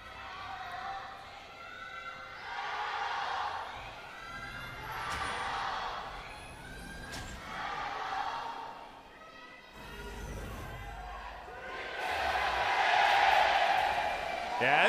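An esports arena crowd of GRIFFIN fans at a 2019 League of Legends Rift Rivals match roars and cheers in rising waves, swelling loudest near the end, with commentators talking over it.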